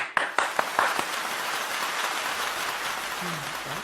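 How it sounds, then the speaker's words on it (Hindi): An audience claps to welcome a speaker at a Hindi poetry gathering. A few sharp, separate claps open into a dense, rain-like wash of applause, and a voice briefly begins near the end. "जोरदार तालियों के साथ स्वागत करें अनुपम रमेश किंगर मैम का"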